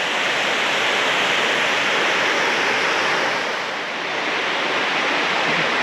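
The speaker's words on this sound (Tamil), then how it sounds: "நம்ம இந்த அருவிக்கு வந்திருக்கோம்" Beeman Falls in the Jawathu Hills, Tamil Nadu, pours as a dense, loud, continuous roar of rushing water, steady and close throughout with only a slight dip near the end.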